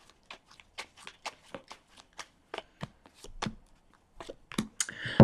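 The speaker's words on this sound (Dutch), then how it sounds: "Dus aan de kaarten schudden om te kijken wat deze week voor jullie gaat brengen." Tarot cards being shuffled by hand in a series of quick riffling bursts and soft slaps, close and clear, with a louder rustling flurry at the end and no talking.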